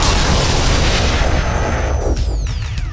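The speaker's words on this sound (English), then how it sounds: "Kris, Neema, shoot it, would you?" A sci-fi blaster shot fired at a ghost in a fan-made Ghostbusters radio play, a loud booming burst with a descending electronic whine trailing off over a continuous rumble.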